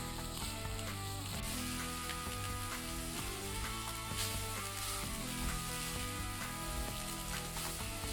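Cauliflower browns in a hot pan after being mixed in, giving a continuous, even sizzle that runs steadily throughout beneath a layer of background music.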